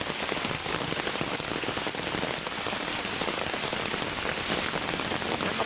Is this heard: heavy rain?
yes